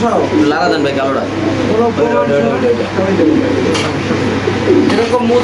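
Giribaz pigeons coo in low, repeated throaty calls at a pigeon farm, with people talking nearby over a constant background hum.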